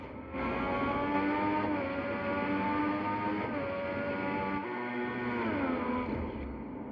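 High-revving Formula One car engine on the Bahrain circuit in F1 2014 during qualifying, a loud continuous whine rising and falling with gear shifts through the whole stretch, nothing else over it.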